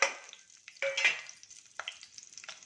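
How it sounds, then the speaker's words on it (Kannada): Garam masala, bay leaf and spices crackle and sizzle in hot oil in a pan, with short bursts of stirring scrapes close by, no talk. "ಇದು ಸ್ವಲ್ಪ ಫ್ರೈ ಆಗಲಿ."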